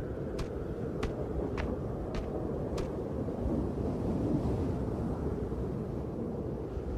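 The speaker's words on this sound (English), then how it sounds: "as you pick up some of the last sticks, you can hear the storm coming in" A thunderstorm approaching in the video game ArcticBoy, with a continuous low rumbling roar of wind and distant thunder, punctuated early by a few sharp, evenly spaced clicks.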